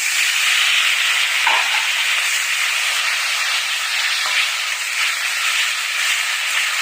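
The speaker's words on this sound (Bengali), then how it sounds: "মশলাটাকে একটু ভালো করে আমি কষিয়ে নেব" Spice paste of turmeric, chili powder and two bay leaves frying in a pan with a little water, giving a loud, steady, close hiss throughout with no talking.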